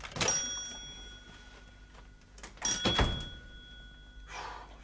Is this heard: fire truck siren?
no